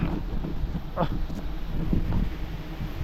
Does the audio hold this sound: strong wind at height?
yes